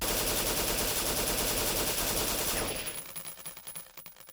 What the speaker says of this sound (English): Empty shells can be heard hitting the ground while firing.